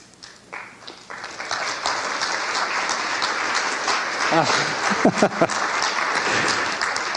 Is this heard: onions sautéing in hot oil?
no